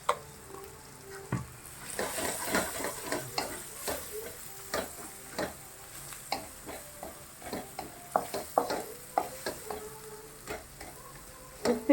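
Chicken for gongura chicken fries in a pan seasoned with chili powder and turmeric. A soft continuous sizzle runs under frequent clinking stirs and scrapes of a spoon against the pan, with no talking.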